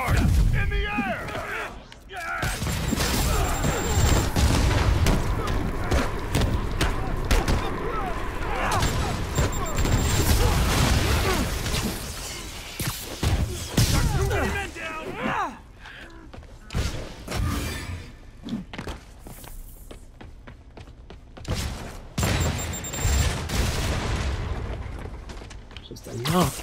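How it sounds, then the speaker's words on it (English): Rocket launcher blasts in the Spider-Man video game, with loud booming explosions, shattering debris and rapid fire packed into the first half, then sparser hits and bangs later, with talking voices over the action. "Enough with the rocket launchers, man."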